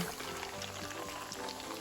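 Mineral water pours steadily into a tequila cocktail, a continuous fizzing, bubbling stream heard close and fairly soft, alone without talk.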